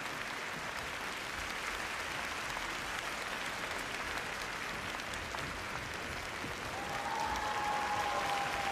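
Dense, steady applause with cheering fills an arena crowd after Tatiana Malinina's 2001 NHK Trophy free skate, sustained and loud throughout, with a thin whistle-like tone rising late.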